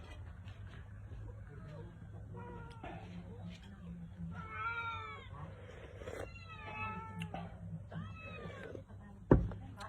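Several cats meowing repeatedly near a home kitchen where native chicken tinola is served, a string of overlapping plaintive calls over a low steady hum, with a sharp knock near the end.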